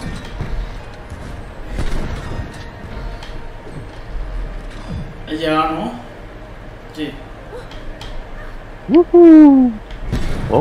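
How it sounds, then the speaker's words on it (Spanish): Cartoonish birds caw from the video game It Takes Two, with a couple of harsh descending calls over game ambience and soft background sounds; players' voices are faintly present. "Hay unos pajaritos voladores."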